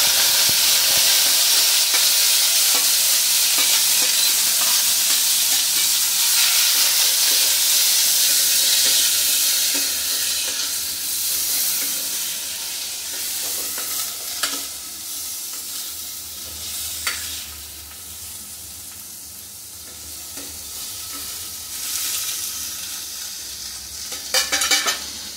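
Onion and curry leaves, with chana dal, fry loudly in a hot pan for paniyaram batter, a strong steady sizzle and hiss that softens midway as a spoon scrapes and stirs with intermittent clatters.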